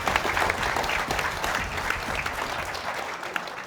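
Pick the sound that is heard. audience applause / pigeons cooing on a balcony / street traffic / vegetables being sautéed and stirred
audience applause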